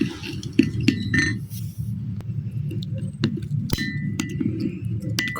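Milk, honey and turmeric stirred together in a bowl for a face pack, giving light clinks and taps of a utensil against the bowl with a soft, continuous low rumble underneath.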